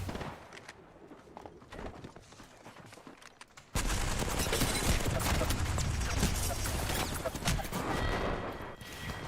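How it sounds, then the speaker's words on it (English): Enemy gunfire in Apex Legends, a quieter stretch of scattered distant shots that abruptly gives way to loud, dense, sustained firing close by. "Another team started shooting me from the middle"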